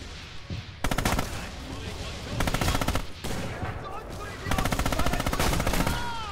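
Machine gun fire in the World War II shooter Red Orchestra 2, several loud rapid bursts of automatic shots broken by short pauses, with other gunfire and battle noise between them.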